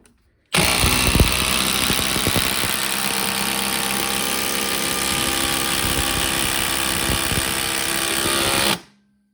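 Milwaukee Fuel impact driver runs steadily for about eight seconds while driving a screw, a loud continuous motor whine with a rattling hammering texture, stopping abruptly at the end.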